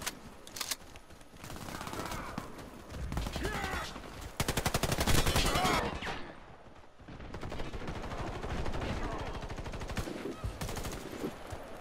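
Rapid automatic gunfire from a weapon in the online shooter Warface during a team deathmatch, loud, close bursts of repeated shots with brief pauses between volleys.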